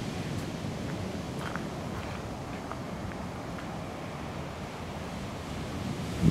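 Black Sea surf rolls onto the shore in a steady, wash-like roar that stays even and moderately loud, mixed with some wind and with no talking.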